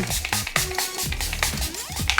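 A hydration mist sprayed onto the face while getting ready with makeup, giving a few short, close, breathy hissing bursts over faint background noise.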